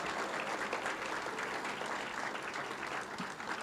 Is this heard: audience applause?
yes